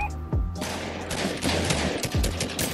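Gunfire in the video game Fortnite, a rapid burst of shots followed by a few heavier, spaced blasts, loud and close, with no talking over it.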